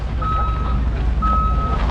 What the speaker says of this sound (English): Lots of buses.